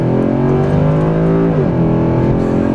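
Mercedes C63 AMG running an ethanol blend pulls hard in second gear, its loud engine note climbing steadily with dense harmonics, a brief dip near the middle, then rising again, close and continuous with no talk.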